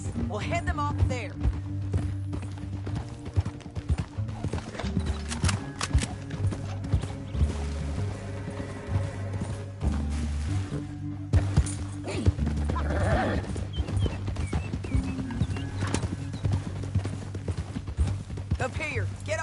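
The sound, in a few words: horse hooves clip-clop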